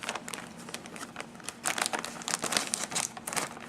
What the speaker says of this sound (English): So we're going to open this bag here that's got a lot of the yellow and pink pieces in it.